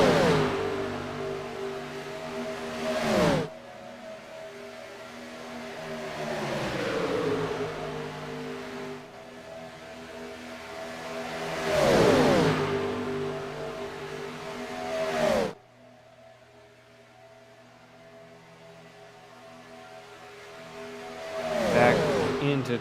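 Stock-style race cars roar around Daytona in a racing video game, engines droning with rising and falling pitch as cars sweep past in several loud Doppler passes, under a commentator's voice.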